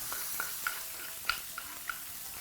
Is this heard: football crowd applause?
no